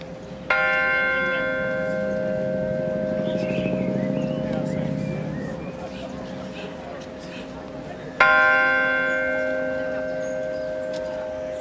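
A church-style memorial garden bell rings out twice, each strike loud and close with a long ringing decay, and murmuring ambience fills the gap between.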